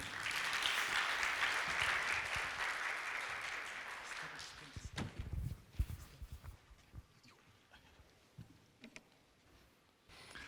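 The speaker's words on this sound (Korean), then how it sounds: "나오시면 큰 박수 부탁드리겠습니다" A college hall audience at a results-sharing event in Korea gives loud, dense applause to welcome a speaker. The clapping fades out after about five seconds, leaving scattered knocks and footstep-like sounds in a quieter room.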